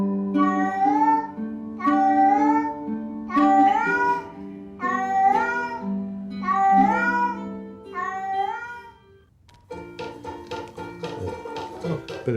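Cats meow in a played video, about six loud, drawn-out, rising-and-falling cries in a steady sequence, followed by a different tonal sound near the end.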